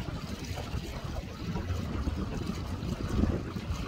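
A boat cruising on Buckeye Lake gives a steady low rumble of engine and water wash, mixed with wind buffeting the microphone, continuous and fairly close throughout.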